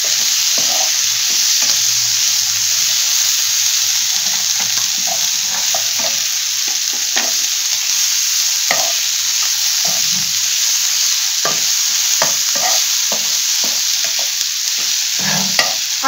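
Capsicum and red chilli fry in a pan with a steady, close sizzle that runs throughout, broken by frequent scraping and clicking as the pieces are stirred; no one speaks.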